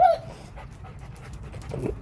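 Dogs panting at close range in a home, a quick rhythmic breathing that is loudest at the start and again near the end, with no talking over it.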